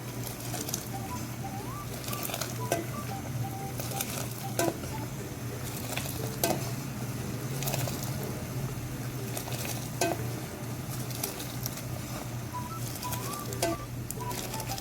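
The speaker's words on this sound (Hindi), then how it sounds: "मैं इसको मुसलसल फेंटती जा रही हूँ इस तरह से उछाल उछाल के" Kashmiri pink tea (gulabi chai) whisked nonstop and ladled high in a pot over a strong flame, giving close, steady splashing and stirring with regular sharp clinks over a low hum.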